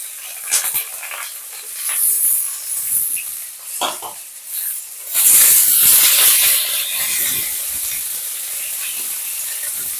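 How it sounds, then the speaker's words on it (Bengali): Carrot, sweet potato and green papaya pieces sizzle and hiss in hot oil in a pan for shukto, a steady close frying crackle that swells louder midway, with occasional stirring scrapes. "এগুলোকে ভালো করে একটু ভেজে নেব।"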